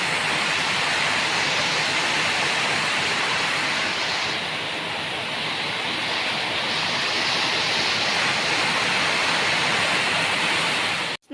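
Floodwater rushes loudly and steadily across a rice paddy after a short, very heavy rain, a dense close roar that never lets up and has no talking over it.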